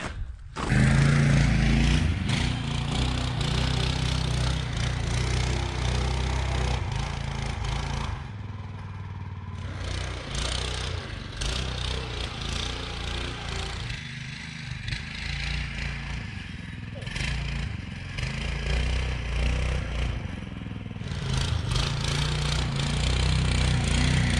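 A pit bike's small engine revs and bogs as it churns through a snowdrift, a rough buzzing drone rising and dropping in bursts, with clattering and scraping mixed in.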